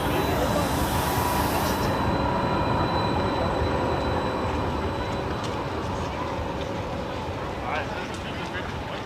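An Odense light rail tram rolls along steadily with a continuous rumbling hum and faint wheel squeal, heard from inside, with people talking underneath.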